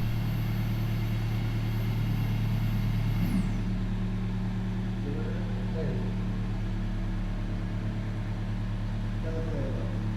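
A Toyota Hiace Super GL engine idles with a steady low hum and whine that holds throughout, joined by a brief falling whistle and faint chirps.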